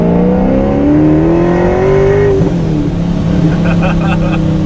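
A Ford Mustang GT350 on a dyno revs out in second gear, its engine note climbing steadily and loudly before cutting off sharply partway through and settling to a lower hum.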